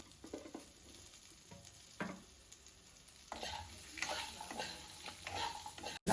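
Gooseberry pickle mixture with turmeric and salt frying in a pan, a soft sizzle broken by scattered ticking pops and stirring scrapes, growing denser and louder in the second half, with no speech.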